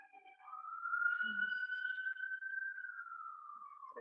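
A police patrol car siren on a street in Mexico City sounds as a single long, steady wail that rises slightly and falls away, fairly faint and distant, with no talk over it.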